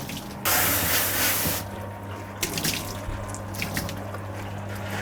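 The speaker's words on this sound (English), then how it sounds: "So you do have to make sure you rinse them pretty thoroughly" A water spray rinses soap from a Burmese Mountain Dog's coat at a dog wash. A loud hissing gush comes first, then a quieter, uneven splashing flow with drips.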